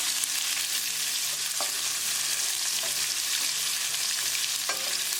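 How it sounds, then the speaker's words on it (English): Onion with garlic frying in a pan: a continuous bright sizzle with occasional soft scrapes of a spatula stirring, steady and close with no voices. "Cooking onion for 2 minutes."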